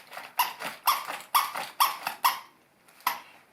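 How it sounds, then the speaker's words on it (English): A small dog yaps in a rapid series of about six sharp, high-pitched barks, with a short pause before one final yap, close and loud with no talking. "So smaller dogs produce a rather high, irritating sound, which is called yapping."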